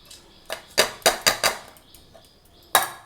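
Dry mung dal being tipped into a mixer grinder jar, heard as a few sharp rattling clinks and clatters in quick succession, then a pause and one more loud clatter.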